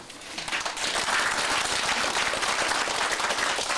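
An audience at a literary evening in Gyeongbuk claps to welcome a speaker, a steady wash of applause that swells quickly and holds throughout, with no talk over it.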